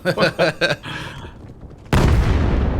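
A grenade goes off during a Valorant esports match, a sudden loud blast with a broad crackling rumble that holds to the end, following a few short vocal bursts and a quieter lull.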